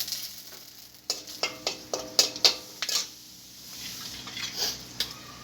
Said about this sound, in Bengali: শুকনো লঙ্কা আর দেবো তেজপাতা